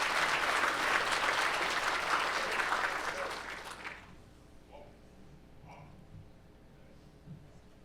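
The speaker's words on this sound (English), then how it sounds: "how about another round of applause for" A large audience at a summit session applauds loudly and steadily for about four seconds, then the clapping fades to scattered, quieter claps and room murmur.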